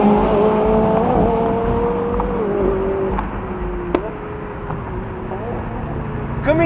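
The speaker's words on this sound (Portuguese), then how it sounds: "570S, trocar de marcha e pôr para ferrar." McLaren 570S Spider sports car accelerating on São Paulo streets, a loud steady engine drone rising in pitch with shifts between gears, a brief sharp crack near the middle, continuous under faint background noise.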